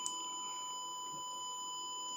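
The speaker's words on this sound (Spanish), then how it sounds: "Escuchamos un pitido continuo, después un corte y otro pitido continuo." A continuous sine-like test tone for checking an audio system holds steady and quiet, with no clear break or other sound alongside.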